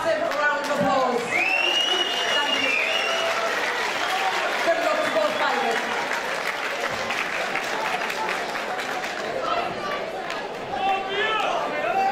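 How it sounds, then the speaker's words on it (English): Crowd applause for two fighters at a Super MTC Muay Thai event in March 2013, a steady roar of clapping and chatter mixed with voices over it, with talk continuing throughout. "Please give these two fighters a massive round of applause."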